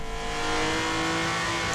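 A six-cylinder BMW Z4 revs hard in Forza Horizon 4, a loud, steady engine drone holding high across the short stretch with no speech over it.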